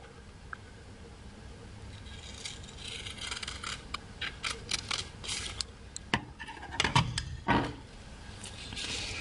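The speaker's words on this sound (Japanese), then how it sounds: "つけた筋からこの下半分をハサミで切り込みを入れます。" Scissors snipping into folded origami paper while crane models are made, a series of close crisp cuts and rustles in irregular bursts, growing louder toward the end, with no talking.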